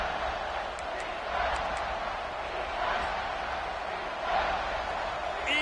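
Stadium crowd roaring in a college football video game, a dense continuous wash of cheering that swells in waves, with commentary voices layered over it.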